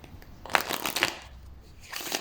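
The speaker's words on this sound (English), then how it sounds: "Then you can shuffle the deck" A deck of playing cards shuffled by hand during a card trick, two or three quick riffling bursts up close with brief pauses between.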